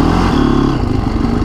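A Honda CRF supermoto motorcycle engine runs loud and close, its throbbing mid-pitched note shifting as it is revved.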